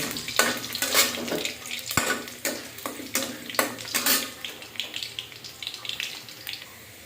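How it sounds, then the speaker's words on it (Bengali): Potato pieces fry in hot oil, giving a steady sizzle under sharp scraping and clattering strokes as they are stirred or turned, close by and moderately loud. "পাঁচ পিস আলু ভেজে নিব"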